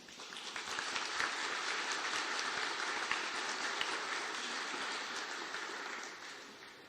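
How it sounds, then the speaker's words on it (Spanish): A hall audience gives sustained, dense applause lasting several seconds at a Bolivian book presentation, welcoming the Central Bank president as he comes up, steady and fairly even before tapering slightly. "a quien recibimos con un fuerte aplauso"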